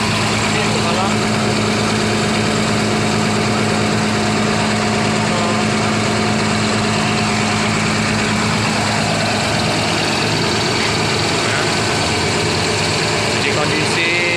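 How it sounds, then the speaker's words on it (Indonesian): The engine of an ALS bus runs steadily, a continuous loud idling drone with a heavy low rumble and engine whine, while people talk over it. "mesinnya masih jos ya teman-teman"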